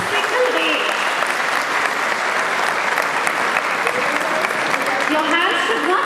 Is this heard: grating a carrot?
no